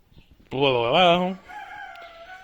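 A henhouse on a poultry farm is opened. A chicken gives one loud, close, drawn-out call, followed by softer clucks and calls from the flock.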